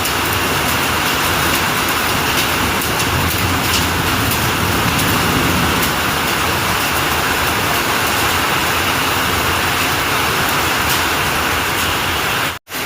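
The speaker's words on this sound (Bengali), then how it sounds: "বর্তমানে আমরা দেখতে পাচ্ছি এই মুহূর্তে আমরা এই শিলাবৃষ্টি" A hailstorm with heavy rain in Sylhet pours down as a dense, unbroken roar of drops, loud and constant throughout before cutting off abruptly at the very end.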